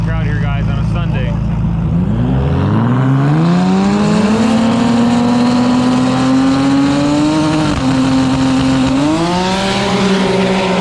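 2JZ-class drag race cars blast down the strip at TX2K, their engines roaring loudly and climbing steadily in pitch through hard acceleration and gear changes, with a voice talking over the noise.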